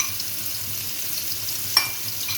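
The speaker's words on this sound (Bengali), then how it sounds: "দেখো ডালটা ভেজে নিচ্ছি।" Lentils for a restaurant-style masala khichdi fry in a pan with a steady soft sizzle, broken near the end by a single sharp stirring clink.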